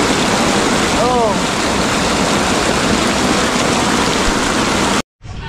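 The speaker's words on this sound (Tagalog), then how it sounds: "medyo tumila ng kaunti ang ulan" Steady, heavy rain hisses loudly and evenly throughout, with a brief chirp early on and a short cut near the end.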